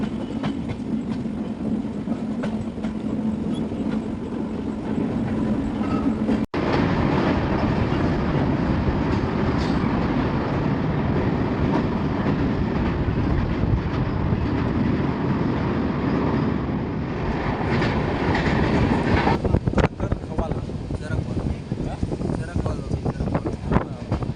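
Train rolling on rails between Katra and Udhampur, a steady close rumble with clatter, rising slightly toward the end, heard from inside throughout with no pauses.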